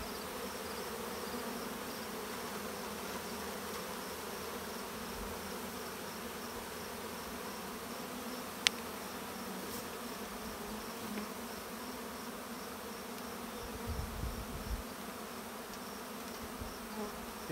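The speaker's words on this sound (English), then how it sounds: "You can see even all these bees back here." Bees buzzing around a beekeeper on a trail while a queen is handled with a bee blower, a steady soft hum of many insects throughout, with a few brief closer buzzes and low rustles near the end.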